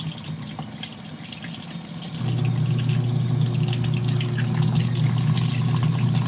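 Tap water runs steadily to rinse something, switching on about two seconds in and then flowing as a constant close hiss and splash, with no talking.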